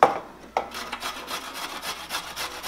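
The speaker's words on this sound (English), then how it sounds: "And then you're going to get a box grater, and on the large side of the box grater," A carrot is shredded on the large side of a box grater in about a dozen steady, rhythmic rasping strokes, close and fairly loud with no talking.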